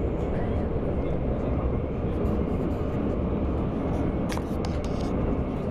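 Steady, loud low rumble and rolling roar from inside an underground metro train in Antwerp, Belgium, with faint rattles and a brief squeal or clatter toward the end.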